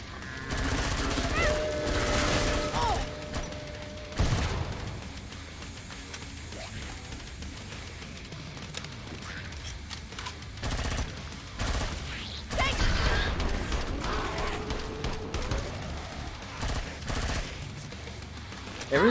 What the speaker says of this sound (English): I got a stoner, yeah.